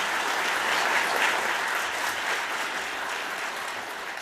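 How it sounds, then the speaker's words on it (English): A large audience applauds at the opening ceremony of an international science olympiad, steady, dense clapping filling the room and slowly thinning toward the end, with no voices over it. "I would like to ask you again for a big round of applause"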